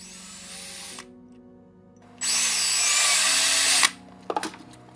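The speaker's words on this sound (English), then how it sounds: "I finished up drilling the fiber optic holes on the top shell here." A power drill bores holes in the top shell for fiber optic lines, with two loud, steady whining runs separated by a quiet pause and followed by short clicks and bumps.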